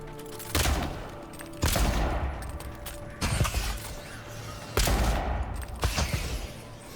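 Loud gunshots ring out in the Avowed video game, four sharp blasts spaced a second or so apart, each followed by a decaying echoing tail over a steady background.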